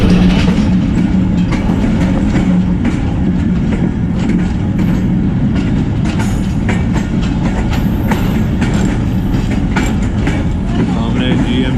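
The Mehr Express passenger train on the Rawalpindi to Multan line rumbles loudly along the rails at close range, with a continuous roar and repeated clickety-clack of wheels over rail joints.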